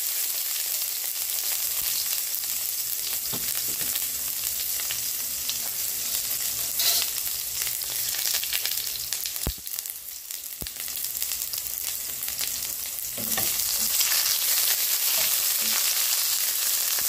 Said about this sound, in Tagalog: Igisa natin ang ating onion at garlic.